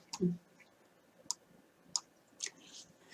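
A computer mouse clicks a next button: a few sharp, isolated clicks spaced about half a second apart, quiet and close against a near-silent background.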